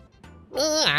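Meowth, a cat-like Pokémon in the video game Pokémon Snap, gives a short, bright, rising-and-falling cry, loud and close, preceded by a faint brief sound.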